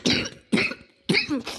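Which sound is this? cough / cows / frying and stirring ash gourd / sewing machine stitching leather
cough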